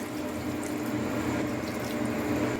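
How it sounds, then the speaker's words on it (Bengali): Water poured into a cooking pan on a home kitchen stove while pumpkin and potato curry is made; a steady, close liquid splashing and trickling runs throughout with no talking. "এই দেখো জল দিয়ে দিল"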